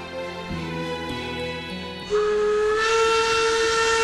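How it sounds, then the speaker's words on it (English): A steam whistle from the preserved Amemiya 21 locomotive, a Hokkaido heritage engine kept in working order, blows a loud, sustained tone from about halfway through and holds it to the end, following softer tonal sound before it. "The Amemiya 21 locomotive, which has been named a Hokkaido heritage, has been maintained in working order."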